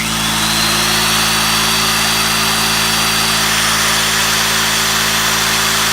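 A loud, steady electric drill whine with a constant motor hum running throughout, unbroken and close, with no talking.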